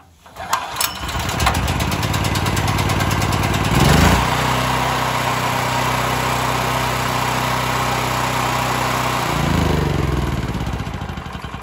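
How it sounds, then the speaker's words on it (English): A Generac 6500E portable generator is pull-cord started, its engine catching after a brief rattle and then running at a steady, loud, close drone that holds throughout. "We should be able to pull this pull cord and it's gonna start up."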